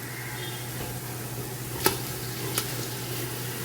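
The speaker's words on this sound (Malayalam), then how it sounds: "ഇതെല്ലാം ഒന്ന് നന്നായിട്ട് എണ്ണയിലൊന്ന് വാട്ടിയെടുക്കണം" Green chillies sauté in hot oil for chicken biryani, giving a quiet, continuous sizzle with a couple of light utensil taps partway through and no talking.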